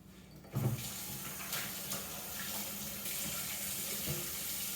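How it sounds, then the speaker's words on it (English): Water runs steadily from a tap while hands are washed during a turkey butchering, with a splashy bump near the start and a constant hiss throughout, fairly close. "A little extra hand washing right now."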